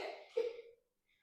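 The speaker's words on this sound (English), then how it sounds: "Hearing toddler coughs." A single short cough from a toddler, soft and fairly close, followed by quiet.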